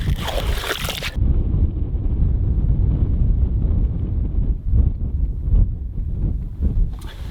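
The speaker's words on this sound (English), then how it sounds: "that wind just whipped my ears" Winter wind gusting over an open frozen lake beside a truck camp at -17°C, a loud rushing buffet against the microphone that surges and dips in uneven gusts, with brief scraping noises near the start and end.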